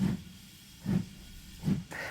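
Rhythmic bursts of steam hiss come from a locomotive, three low chuffing pulses evenly spaced under a steady soft hiss, with a higher hiss starting at the end.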